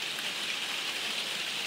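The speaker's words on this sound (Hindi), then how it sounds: "बारिश की आवाज़ को भी इंजॉय करती हूँ" Steady rain falls at home, an even, close hiss of drops on surfaces with no pauses or other sounds over it.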